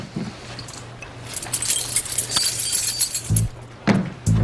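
Car keys jangle and clink in a few metallic bursts, close and fairly loud against a quiet room, with brief pauses between the rattles.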